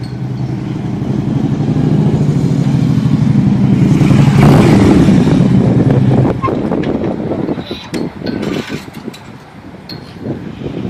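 A motorcycle fitted with aftermarket exhaust pipes roars loudly and steadily, with heavy wind buffeting, then settles into a rougher idle with clicks and knocks.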